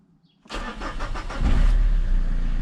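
A Citroën Berlingo 2.0 HDI diesel engine cranks with a quick rhythmic starter whir, then catches and settles into a loud, steady low idle, heard close with no talking.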